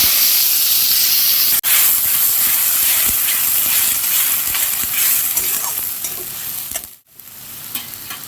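Onion, tomato and ginger-garlic paste going into hot oil, a loud, close, continuous hissing sizzle with a sharp break early on and a brief drop near the end before it resumes.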